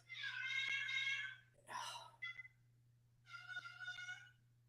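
A house cat gives several drawn-out, harmonically rich meows in two groups with short gaps, close and alone over a steady low electrical hum.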